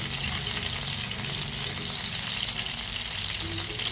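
Chicken fries in coconut oil with a steady, loud, crackling sizzle that holds unbroken throughout, and no voices are heard.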